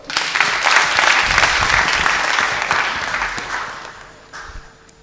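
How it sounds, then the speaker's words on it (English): An audience at a school debate afternoon claps for a woman, with sustained, lively applause that gradually fades toward the end and a few last claps trailing off. "And so give her another hand clap."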